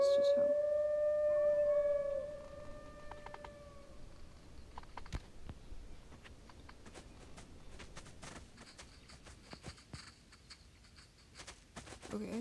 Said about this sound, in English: Let's just howl.